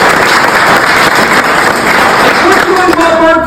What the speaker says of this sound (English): Round of applause for Mark up there.